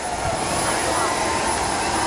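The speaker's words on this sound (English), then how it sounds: "Drivers, start your engines!" NASCAR stock car engines fire up at New Hampshire for the start of a 2016 Cup race, a dense, steady roar of many motors that fills the whole clip at high volume.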